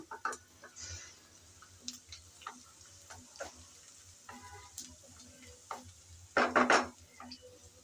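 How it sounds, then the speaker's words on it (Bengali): Onion, garlic and panch phoron fry in a pan for a lentil dal, with soft intermittent sizzling, spoon taps and clinks against the pan, and a louder burst of crackling as spices hit the hot oil; no talk. "পেঁয়াজ রসুন লাল লাল করে বেজে নিলাম এখন দিয়ে দেব পাঁচফোড়ন"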